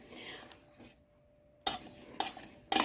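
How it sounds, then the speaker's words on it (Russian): A spoon stirs thickening custard cream in a pot for a chocolate Prague cake: soft scraping, a short lull, then three sharp metallic clinks against the pot, with no talking. "вот так вот медленно-медленно помешиваем, не отходим, пока смесь хорошо не загустеет"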